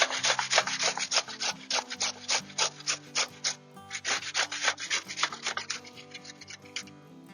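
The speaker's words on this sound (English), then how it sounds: "So I am going to use this by grating it and adding that to the" Vegetable for pink sauerkraut being grated by hand, a rapid run of rhythmic rasping strokes against the grater, close and steady, with a brief pause midway before the scraping resumes, no voices.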